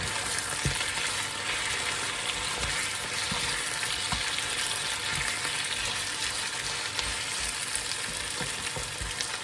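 Sweet peppers frying in a pan for a curry, a steady dense sizzle throughout with occasional soft knocks from stirring, close and continuous with no talking.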